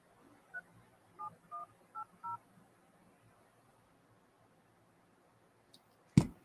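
Touch-tone telephone dialing at the start of a conference call: five short DTMF beeps in quick succession, followed by a few seconds of quiet and a sharp click or handset knock near the end.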